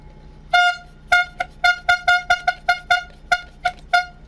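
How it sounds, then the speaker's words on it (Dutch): A historic museum ship's horn toots in a harbour, sounding a long blast followed by a rapid series of short loud honks in an irregular rhythm, close and dominant with no talking. "En dan maar wat toeteren, hè."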